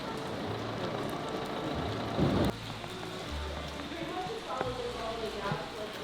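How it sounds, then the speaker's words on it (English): Rain falls on a street in Porto, Portugal, making a constant wet hiss with scattered drips and clattering impacts, while voices talk over it nearby. "It's raining a lot"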